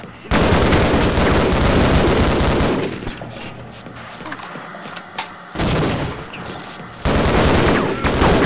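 Shotgun blasts in the video game Half-Life, several loud booming bursts with gaps between them and a noisy stretch of game sounds in the middle.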